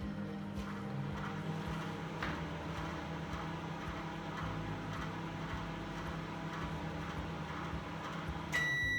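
A microwave oven hums steadily while it heats Quaker oats. The drone is faint and continuous, with a brief change at the very end. No one speaks.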